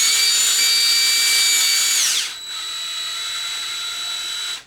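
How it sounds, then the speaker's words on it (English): A power drill whines loudly and steadily for about two seconds while driving inner hinge pins back into an Xmaxx RC car, then drops to a lower, quieter whir until it stops. "Shouldn't be using a drill to go back together, guys, but I am"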